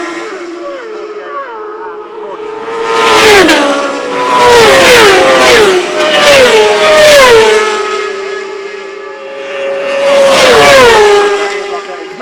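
Racing motorcycles at the Castletown road circuit on the Isle of Man during the post-TT races scream past one after another, their high-revving engines swelling loud as each bike passes close, then falling away.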